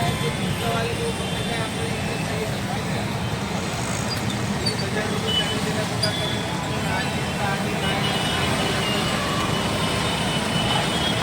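Loud, continuous roar of busy road traffic at a junction in Pune, with engines rumbling and vehicles passing close by without a break.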